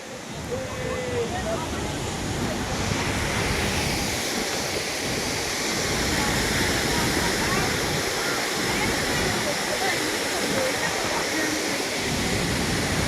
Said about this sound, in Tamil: இப்போ இந்த அதிரப்பள்ளி அருவி